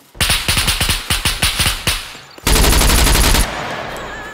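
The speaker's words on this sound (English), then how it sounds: "Okay, southeast, already shooting." Gunfire in the SCUM video game: a loud burst of rapid, evenly spaced shots, a short pause, then a dense sustained stream of fire ending abruptly into fading noise.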